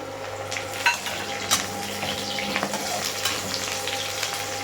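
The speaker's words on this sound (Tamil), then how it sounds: "இப்போ கருவேப்பிலை போட்டுக்கலாம்." Curry leaves frying in hot oil with browned onions for beans poriyal: a steady, close sizzle with intermittent clinks and scrapes of a spoon stirring the pan.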